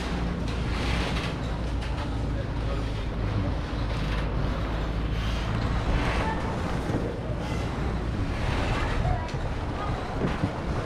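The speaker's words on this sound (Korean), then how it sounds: "와, 여기 파도가 세네." Choppy waves on the Bukhan River near Cheongpyeong Dam wash and slap steadily around a water boat, mixed with wind buffeting the microphone and a faint voice.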